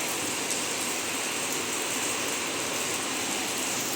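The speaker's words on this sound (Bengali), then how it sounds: "বৃষ্টি পড়ছে" Steady rain hisses down in a dense, even wash of patter, continuous and fairly loud with no voices.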